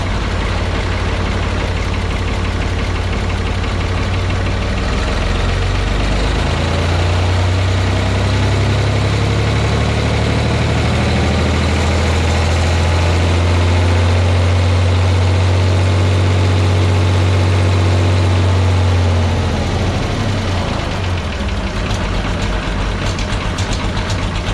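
A Ford tractor engine idles steadily and loudly up close, a continuous low rumble whose pitch shifts and rises midway before settling back, with no talk over it.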